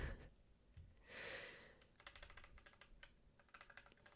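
Rapid clattering keystrokes on a computer keyboard, quiet and close, in bursts with a short breathy gasp partway through; no talking.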